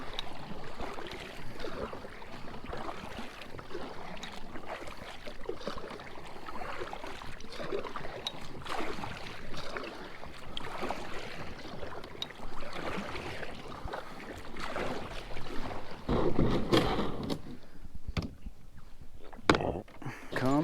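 Soft, rhythmic paddle strokes of a kayak moving through water on a fishing outing, continuous and fairly close, with a few louder splashes near the end and no talking.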